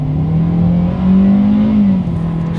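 A 2023 Hyundai Accent subcompact accelerating hard in sport mode, heard from inside the cabin as a loud steady engine drone that rises in pitch, dips briefly at a shift, then settles.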